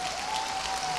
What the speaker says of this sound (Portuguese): Vamos dar um aplauso ao Senhor pela vida dele.